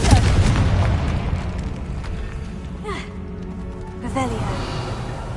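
Booming explosions from the Confringo spell in Hogwarts Legacy hit at the opening, then come in sharper bursts with whooshing, falling tones around the middle and near the end, loud and close. A voice is present as well.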